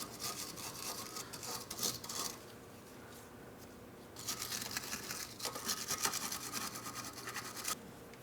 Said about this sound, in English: I'm going to clean them up with a wire brush